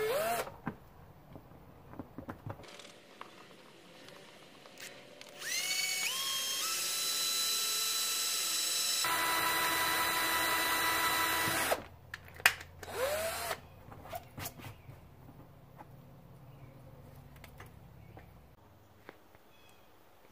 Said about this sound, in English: drill through the Sharpie marks using a small bit at first and larger ones until you reach the desired size